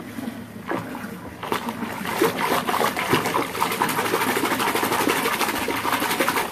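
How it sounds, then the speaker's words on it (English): Bath water swooshed around a fizzing purple bath bomb, a steady dense watery churning and bubbling that builds after the first second and continues loud and close throughout, with no talking. "You just swoosh it and you get bubbles and stuff."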